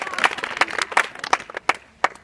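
Students in an inter college classroom in Azamgarh clap in an uneven, scattered burst that thins out into a few last isolated claps, with faint voices in the room.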